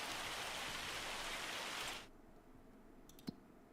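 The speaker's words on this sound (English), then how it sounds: "Now it's just raining." Steady hiss of rain falls in Farming Simulator 25, loud and even for two seconds, then cuts off abruptly to a quiet background with a single faint click.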